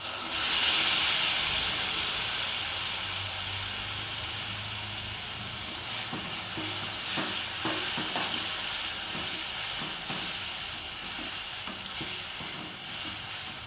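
Steady hissing sizzle of ground fresh tomato paste frying in a hot pan, with occasional stirring scrapes; no voices.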